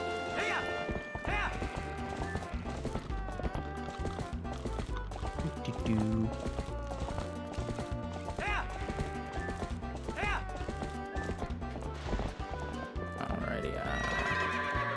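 Video-game horse neighs in short whinnies over steady clip-clop hoofbeats as a rider herds goats into a barn in The Legend of Zelda: Twilight Princess, under continuous background music.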